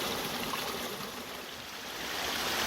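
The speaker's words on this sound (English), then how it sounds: "There's another little feeder creek right up in here coming down." A small feeder creek in Mother Lode gold country runs downhill with a steady, even rush of water, fairly close, with no voices over it.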